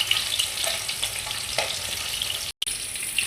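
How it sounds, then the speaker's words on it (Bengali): Katla fish pieces frying in a pan, giving a bright continuous sizzle and crackle up close with faint spits, briefly cut to silence near the end. "এদিকে মাছটা ভাজতে হতে"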